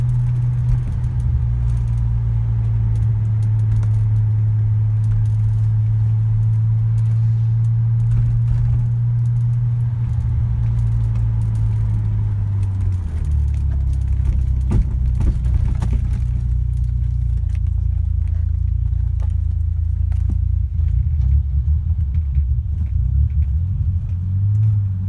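A 1988 BMW 635CSi drives along at steady cruising speed, its low engine rumble and road drone continuous throughout, with slight shifts in pitch as the car moves.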